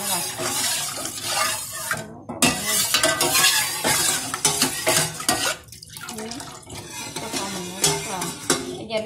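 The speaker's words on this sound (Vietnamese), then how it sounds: "Mình dùng 2 cái tay mình quậy đều lên," Jelly mixture for a layered rau câu dessert stirred by hand in a pot as it heats, with steady scraping and swishing, light clinks and a bubbling sizzle running throughout at close range.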